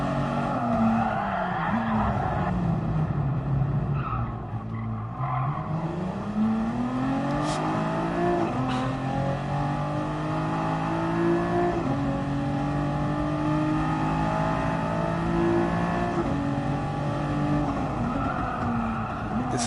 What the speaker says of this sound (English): This is a Nissan GTR that I'm using right now, man